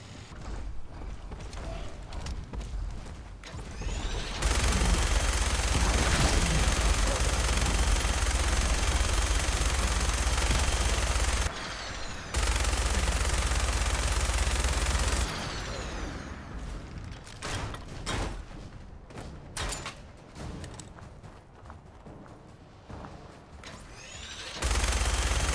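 A minigun firing in Fallout 4, long sustained bursts of rapid, roaring fire separated by brief pauses, followed by shorter choppy bursts and mechanical spin-up clatter.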